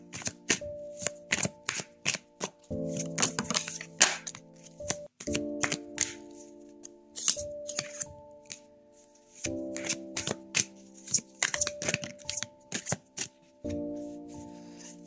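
Tarot cards are shuffled by hand, with repeated quick riffling bursts and soft taps close up, while gentle music plays underneath.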